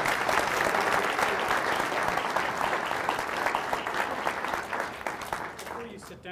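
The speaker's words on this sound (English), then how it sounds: "A round of applause." Audience at a lunchtime talk on social media breaks into sustained applause, a dense, loud patter of clapping that holds steady for several seconds before thinning out into a few scattered claps at the end.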